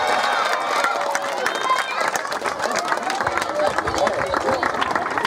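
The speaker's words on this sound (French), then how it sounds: "applaudissez-les encore très fort" An audience at a school show claps and cheers, a dense continuous wash of applause with crowd voices mixed in, steady and close throughout.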